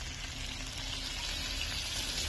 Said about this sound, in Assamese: কেৰাহীখনত থকা তেলতে আৰু অলপ তেল দি পিঁয়াজ, নহৰু, পাঁচফোৰণ দি ধুনীয়াকৈ ফ্ৰাই কৰি লৈছোঁ আলুখিনি